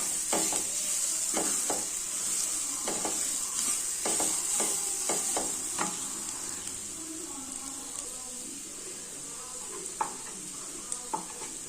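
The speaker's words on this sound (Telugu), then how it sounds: "దీనిలో ఉల్లిపాయలు వేయించుకోవాలి" Onions frying with spices in a pan for an Indian chaat-style snack, a steady bright sizzle with frequent scraping stirs of a spoon, close up, with occasional faint talk in the background.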